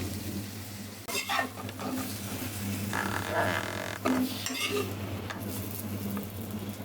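Pointed gourd slices fry in a pan, a moderate sizzle with intermittent stirring scrapes and a few metallic utensil knocks against the pan, fairly close and without talk.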